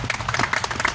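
Quick, crisp clapping from a rally audience applauding a speaker at a Bikers For Justice parental alienation awareness rally, a dense patter of hand claps that is brief and fairly close.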